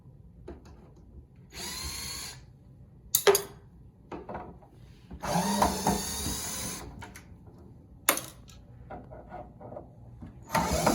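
A power drill backing old screws out of a door hinge, heard as three or four separate whirring bursts of a few seconds each, with quieter clicks and handling noises in the pauses between them.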